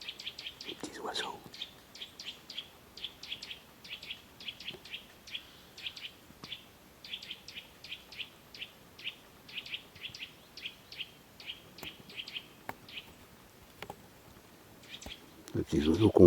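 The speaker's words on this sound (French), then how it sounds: "ceux-là, c'est les petits bébés qui gueulent, ils ont faim" Hungry nestling birds call repeatedly in woodland, a steady run of thin, high chirps pulsing about twice per second for the whole stretch, fairly close, with brief rustles and a louder thump near the end.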